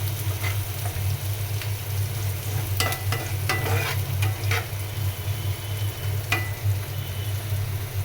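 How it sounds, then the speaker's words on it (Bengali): Onion, garlic and whole dried chilies fry in oil toward golden brown, a continuous sizzle broken by sharp scrapes and clicks of a spatula stirring the pan at irregular intervals. "ভাজি করার জন্য পেঁয়াজ, রসুন, শুকনো মরিচ খুব ভালোভাবে ভেজে নিলাম গোল্ডেন ব্রাউন করে"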